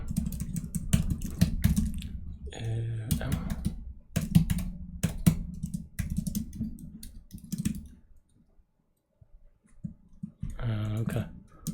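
Rapid clicky typing on a computer keyboard comes in dense bursts during coding, stopping briefly for short stretches of speech and a quiet pause before the keystrokes resume.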